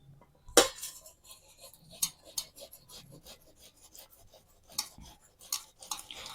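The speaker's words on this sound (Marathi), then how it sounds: "आता ते आपण किसणीने ना बारीक करून घ्यायचे।" Peeled, slightly underboiled potatoes rubbed against a metal grater, giving irregular rasping scrapes with a few sharp clinks, close and fairly quiet, with no talk.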